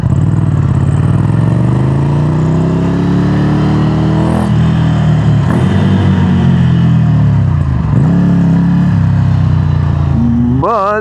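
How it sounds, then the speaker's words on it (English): Ducati Scrambler Urban Enduro motorcycle engine, loud and close, revving steadily with rising and falling pitch through the whole stretch, then a sharp high rev at the end. "Now here's a motorcycle that actually sounds like a motorcycle."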